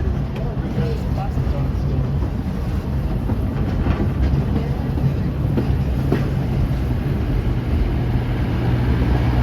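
Walt Disney World Railroad train running at the Magic Kingdom, a steady low rumble and rolling rattle of the cars throughout, close and continuous, with faint voices mixed in.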